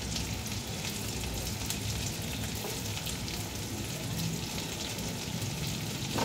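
Onions fry in hot oil for a mutton stew, a dense, even sizzle that holds steady and close throughout with no talking.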